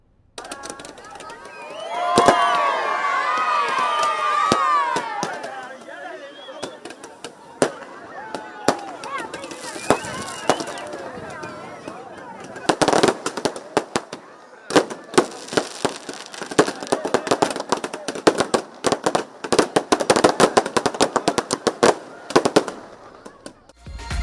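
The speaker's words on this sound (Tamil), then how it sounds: "வைகை ஆற்று பாலத்தில் பட்டாசுகளின் கண்கவர் வான வேடிக்கைக்கு ஏற்பாடு செய்யப்பட்டது" Fireworks burst over the Vaigai river bridge during a city festival finale, with rapid crackling volleys and sharp bangs in loose bursts, while a crowd murmurs and voices carry beneath.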